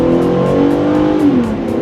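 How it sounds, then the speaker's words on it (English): A 2013 Mazda CX-9 with a normally aspirated engine revs hard while accelerating at high altitude, its loud, close engine tone rising and then dipping steadily with no voices over it. "I'm gonna rev it a little bit too."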